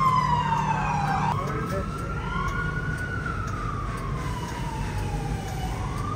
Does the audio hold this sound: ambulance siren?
yes